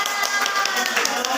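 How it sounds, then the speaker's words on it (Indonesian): A classroom group claps together at a student presentation, a dense, steady patter of many hands that fills the whole moment at close range. "Oke, tepuk tangan semuanya."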